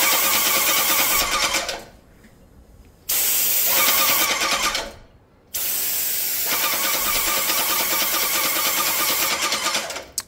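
An airless paint sprayer, a Vevor 450, sprays water through its nozzle in loud hissing bursts, stopping twice between them, close and with no voices.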